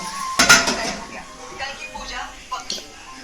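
A lid set back onto a pot of drumstick flower bhaji in a village kitchen, a sharp metallic clank followed by lighter clinks, with someone talking throughout.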